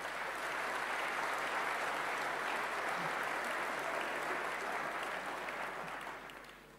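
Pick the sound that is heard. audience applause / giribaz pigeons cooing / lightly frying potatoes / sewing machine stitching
audience applause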